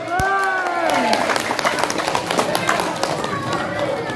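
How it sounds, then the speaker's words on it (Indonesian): A crowd at a 17 August Independence Day eve gathering claps and cheers, a dense continuous patter of many hands filling the space, loud and steady, with voices mixed in. "Tepuk tangan."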